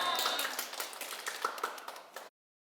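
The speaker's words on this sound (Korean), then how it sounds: "큰 박수 부탁드리고" An audience at a Sunday Buddhist dharma talk claps, a brisk, fairly loud burst of many hands that stops abruptly after about two seconds.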